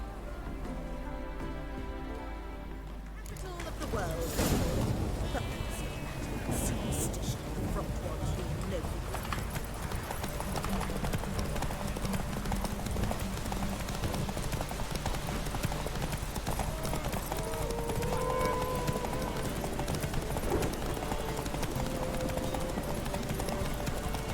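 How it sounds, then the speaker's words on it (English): Horse galloping in the video game The Witcher 3, with steady, rapid hoofbeats that are clear and fairly close, continuing throughout while voices speak over them. "Hay un caballo corriendo allá."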